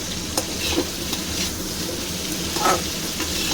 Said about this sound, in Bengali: আলুটা একটু লাল করে ভাজবো